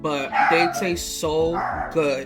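A pet dog barks several times in a home kitchen while someone talks over it during cooking, the short yips mixed in with the voice.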